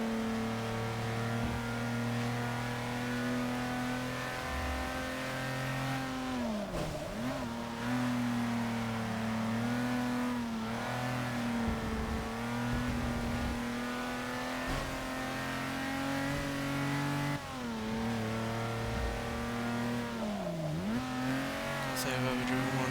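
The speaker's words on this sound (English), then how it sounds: "Jag makes such a good noise." Classic Jaguar sports car engine in Forza Motorsport 6 revving and droning continuously, rising and falling with gear changes and two sharp lifts off the throttle, racing in the wet; a voice speaks faintly underneath.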